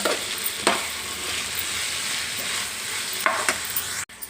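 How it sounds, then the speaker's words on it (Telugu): Cucumber pieces and coriander are stirred into fried tomato in a pan, making a soft steady sizzle with occasional scraping strokes of a spoon, close and alone. "ఇప్పుడు దోసకాయ ముక్కల్ని ఇందులో వేసేసుకుందాం. కొంచెం అంతా కొత్తిమీర కలిపేసుకుందాం"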